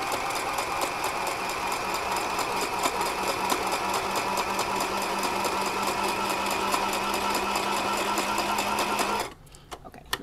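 A sewing machine stitches fabric fast and steady for about nine seconds, a dense mechanical whirr with rapid ticking, then stops abruptly.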